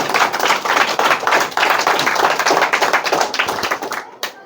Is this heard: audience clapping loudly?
yes